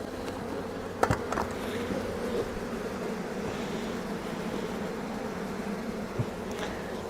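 A dense swarm of honeybees hums around an opened hive on a cool day during a swarm-cell check, a steady close buzz with a couple of brief knocks and no talk.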